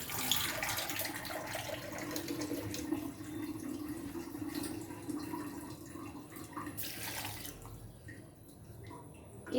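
Water runs and pours steadily for making chia seed pudding, a soft continuous splashing stream that tapers near the end.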